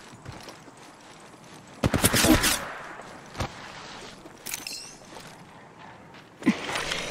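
Gunfire in Apex Legends Mobile, with short loud bursts of rapid shots, a sharp single crack, and more sporadic fire in between, over quieter movement and mechanical clicks.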